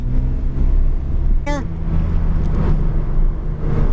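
A Porsche 992.1 GT3 engine at full throttle on a track gives a loud, continuous, dense roar heard from inside the car, with a brief voice surfacing midway.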